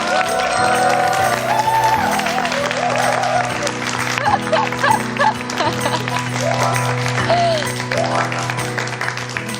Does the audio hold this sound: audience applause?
yes